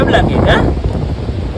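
Strong wind blows at a lighthouse, buffeting the microphone with a loud, steady roar. A person speaks briefly over it at the start.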